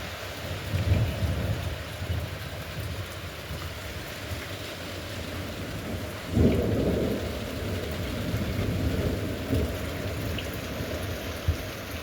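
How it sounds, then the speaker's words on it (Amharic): Heavy rain pours steadily and close, with low rumbles of thunder rolling in and a louder thunderclap breaking midway through the downpour. "መጥቷል ዝናቡ ዛሬ መጥቷል።"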